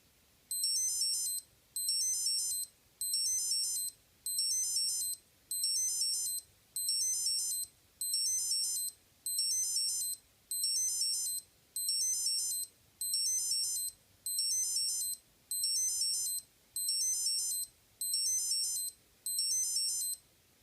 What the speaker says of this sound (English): We'll listen to the second alarm